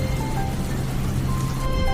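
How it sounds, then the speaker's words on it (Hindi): Heavy rain pours down in a steady, dense wash of noise that lasts throughout, close and loud with no voices over it. "तभी तेज बारिश का झोंका आता है"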